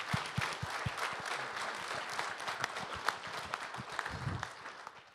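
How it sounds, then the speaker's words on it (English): An audience gives a round of applause at a business update meeting, starting with a few loud individual claps and swelling into sustained, fairly close clapping that tapers off near the end. "Big round of applause."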